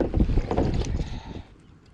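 Wind on a lake buffets a kayak, a loud rough rumble of gusts and water noise on a windy day that eases off toward the end.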